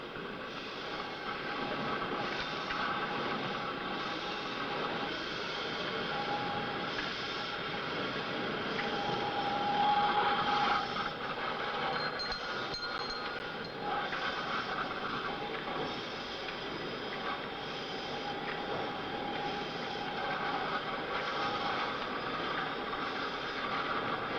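A steam winding engine at a coal mine, built in the nineteenth century, churns with a continuous heavy mechanical rumble and clatter at moderate loudness, swelling briefly midway, with no speech.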